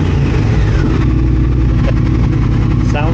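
A 2022 Triumph Speed Twin motorcycle engine with its O2 sensor and secondary air injection deleted idles loudly and steadily close by, a constant throbbing rumble with a faint crackle near the end and no talking.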